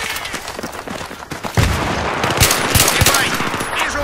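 Rapid gunfire in a shooter video game: loud, dense bursts of shots crackle over a constant noisy backdrop, growing heavier and more sustained after a brief lull, with faint voices mixed in.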